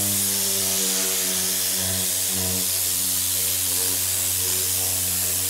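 A car interior cleaning tool sprays cleaner at full blast, giving a steady, loud, close hiss with a humming compressor-like drone under it that runs unbroken throughout.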